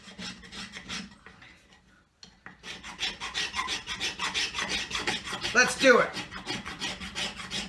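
Rasping file scraping across wood while an axe is shaped, a steady run of gritty back-and-forth strokes, close and fairly loud, with a brief pause early on and a few spoken words.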